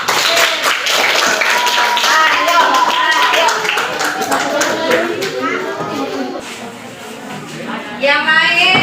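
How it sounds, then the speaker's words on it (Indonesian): Children in a classroom clap together, a dense burst of close applause with a teacher speaking and kids chattering over it, fading and then picking up again at the end. "Tepuk tangan dulu."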